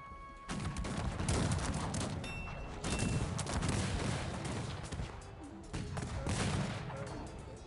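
Cannon and musket fire in a Cossacks 3 4v4 battle, with repeated booming shots and crackling volleys layered over a dense, continuous battlefield din throughout.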